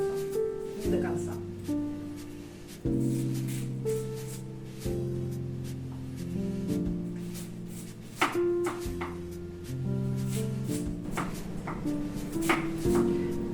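A knife slices a sweet potato accordion-style, making repeated short cuts that stop before going all the way through. The cuts come as close, crisp knocks and scrapes, with a plucked music track running steadily underneath.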